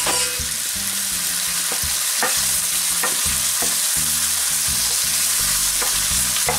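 Hot pepper shrimp, king prawns, frying in a pan and kept moving, a loud continuous sizzle with repeated scraping stirs at an uneven rhythm, close and without talk.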